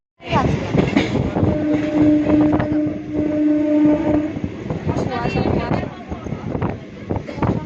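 A train rumbles along with clattering noise, and a long steady horn sounds for a few seconds in the middle while people talk over it.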